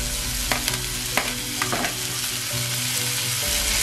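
Onion, chili and ginger stir-frying in a hot pan for dal dhokli, a steady loud sizzle with occasional clinks and scrapes of the spoon, no voices.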